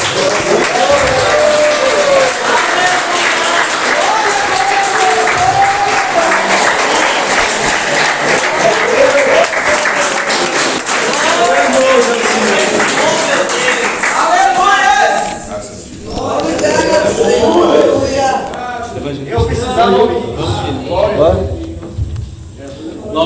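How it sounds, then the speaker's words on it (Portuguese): Church congregation applauding in praise, a sustained dense wash of clapping mixed with shouts and voices, thinning briefly midway before surging again, loud and close throughout. "Dê um aplauso para o Senhor Jesus."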